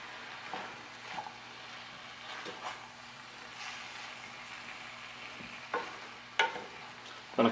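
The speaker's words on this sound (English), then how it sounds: "We need to give this a good stir now, just to make sure all the ingredients are thoroughly mixed." A pot of stewed red herring with its mixed ingredients being stirred over low heat, giving soft scraping and sloshing strokes with a few sharper knocks of the spoon near the end, close and moderately quiet.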